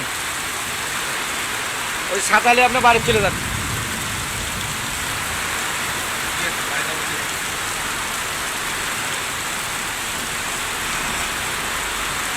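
Heavy rain pours down steadily in Gazipur, a dense, loud, continuous hiss of drops on surfaces, with a voice briefly heard over it.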